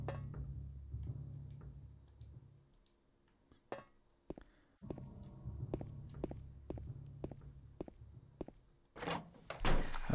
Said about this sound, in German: Das ist eine Tür, die Tür ist verschlossen.